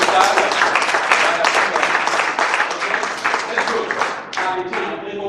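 Audience in a French conference hall applauds loudly and steadily for about five seconds, a dense wash of clapping that dips briefly near the end and then picks up again.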